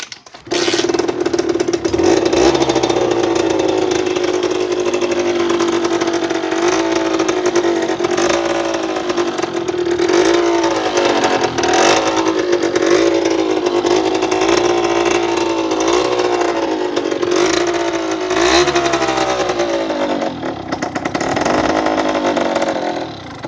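A trial motorcycle engine fires up and runs loud and close, buzzing steadily with several short revs rising and falling over more than twenty seconds.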